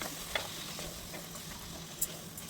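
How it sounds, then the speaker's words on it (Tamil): Beans, carrot, green peas and potato stirred in a hot pan on high flame, a soft steady sizzle with faint scraping, quiet and continuous with no talk. "கட் பண்ணி வச்சுருக்க பீன்ஸு, கேரட்டு, பச்சை பட்டாணி, உருளைக்கிழங்கு இது எல்லாத்தையும் சேர்த்து நல்லா கலரி விட்டுக்கும்"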